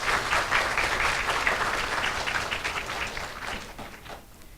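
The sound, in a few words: audience applause at a university entrance ceremony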